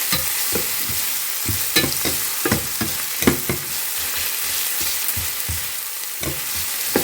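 Barramundi (koral) fish pieces shallow-frying after a soak in lemon, a constant loud sizzle of oil with rhythmic stirring and scraping taps in the pan, close up and without voices.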